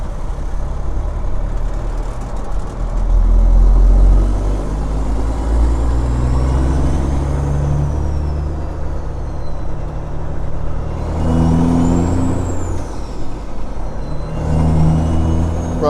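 Peterbilt 379 truck with a Caterpillar engine, not fully warmed up, rumbles steadily in the cab through 18-speed gear shifts, with a deep continuous drone and brief dips and rises in pitch as each gear changes.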